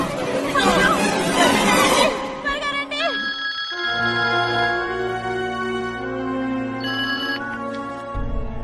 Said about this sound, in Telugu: కార్తీక్ కార్తీక్ ఫోన్లో ఎవరు?